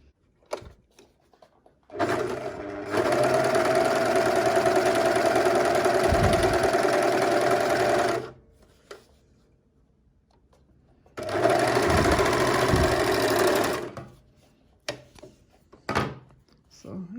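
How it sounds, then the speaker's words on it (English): A serger stitches a two-thread overlock seam in two sustained runs of loud, rapid mechanical whirring, separated by a pause with small clicks and handling noises. "So first of all, we can stitch just a regular overlock seam."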